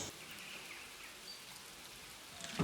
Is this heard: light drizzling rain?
yes